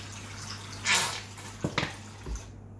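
Water is poured into a mug during a hair patch service demonstration, a short splashing gush followed by a couple of trickles and drips, fairly close and with no one talking over it.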